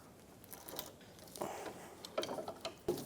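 Wrenches loosening the 10mm CV axle bolts on a 2003-2007 Infiniti G35 while the axle shaft is held, giving a few soft metallic ratcheting clicks and scrapes, close but fairly quiet and without speech.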